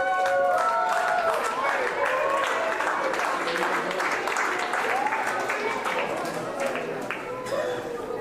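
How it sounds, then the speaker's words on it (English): A crowd applauds a young winner at a chess tournament prize ceremony in Nairobi, with sustained clapping in a hall alongside voices and chatter. "Now let's give a round of applause to Abu."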